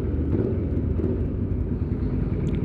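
A Yamaha R15 motorcycle engine rumbles with a deep, steady low throb, fairly loud and continuous, with no voices over it.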